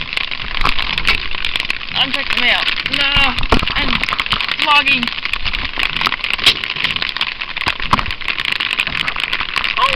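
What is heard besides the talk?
rain falling in British Columbia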